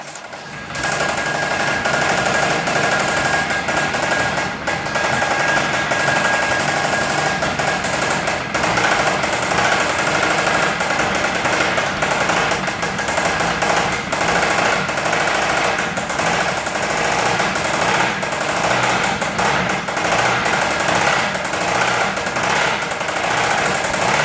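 A loud, rapid mechanical knocking from a failing Dodge 2.4-litre engine with excess coolant, running continuously and harshly for the whole stretch, with no talking.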